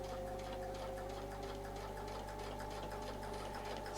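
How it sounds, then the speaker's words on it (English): Sewing machine stitching steadily along a template line in curved quilting work, a constant, even mechanical hum with rapid ticking, moderately quiet and alone. "we're going to sew up to that line again"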